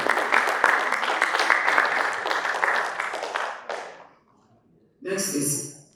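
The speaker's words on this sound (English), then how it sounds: "Please round of applause for Justin." Audience applause at the Ghana Space Conference: steady clapping from a seated crowd for about four seconds that tapers off, followed by a short burst of other sound after a pause.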